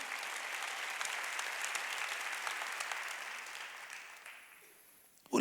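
A church congregation claps together in steady, dense applause that carries on for several seconds before fading out.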